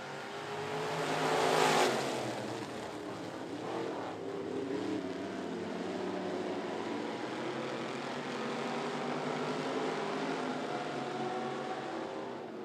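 Street stock race cars circle 411 Motor Speedway in a six-lap heat, their engines a steady, fairly distant roar that surges briefly near the start and then holds level.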